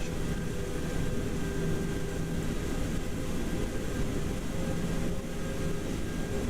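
Airbus A320 jet on the ground at Heathrow during pushback in the FlightGear simulator, a steady broadband engine roar with a faint tonal hum, constant and moderately loud throughout, no voices.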